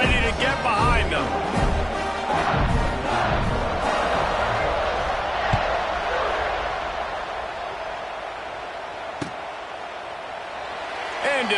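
A football stadium crowd roars steadily at kickoff, a dense wall of cheering and noise that stays loud throughout, with faint thuds mixed in.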